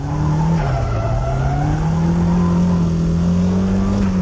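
A drifting car slides through a corner with the e-brake pulled, its engine droning steadily while the tires skid and squeal continuously and loudly throughout.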